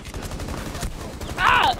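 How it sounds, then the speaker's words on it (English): Video game gunfire: a steady run of rapid shots under an ongoing noisy firefight, topped near the end by a brighter burst, with faint voices in the mix. "they're shooting at us from behind"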